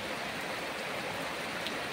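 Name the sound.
heavy rain without wind or thunder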